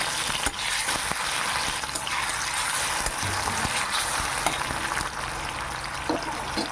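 Paste of ginger, garlic and chili stirred in a hot pan for spicy fish roe pakoras, giving a loud, dense, continuous sizzle and bubbling with scattered scraping knocks from stirring.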